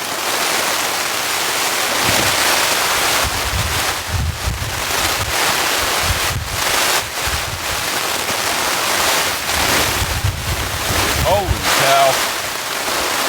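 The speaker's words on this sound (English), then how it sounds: "I think we have a wind direction change." Strong storm wind buffets a campsite during heavy rain, roaring steadily with gusts and rain hiss, loud and close for the whole stretch.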